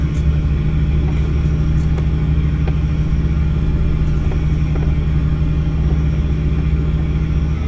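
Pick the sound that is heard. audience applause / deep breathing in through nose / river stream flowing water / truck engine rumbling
truck engine rumbling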